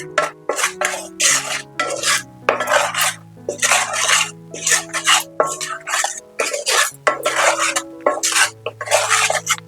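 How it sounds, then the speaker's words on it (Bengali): A spatula works spices and tamarind pulp around a pan with peanut oil for temple-style puliyogare, making repeated scraping and clinking strokes in a broken rhythm over a soft, sustained melodic tone. "এবার এই মশলা আর তেঁতুলের পাল্পটাকে খুব ভালো করে মিশিয়ে নেব।"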